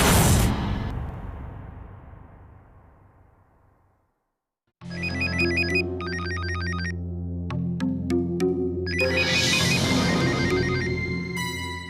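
A phone ringtone plays in a tense Hindi TV drama scene, a repeating electronic melody with tonal pulses that starts after a brief silence and continues steadily over a dramatic music bed.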